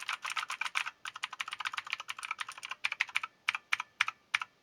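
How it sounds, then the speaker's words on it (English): Rapid typing on a T-Dagger Bermuda mechanical gaming keyboard, crisp clicky keystrokes in quick bursts with a faint metallic ring after each click, close up and with no voices. "metallic resonance after the click. Boom, boom. Oh well, that's a mechanical keyboard for you."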